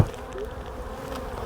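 Honey bees buzz close by at a small hive, a steady droning hum with a brief louder swell at the start.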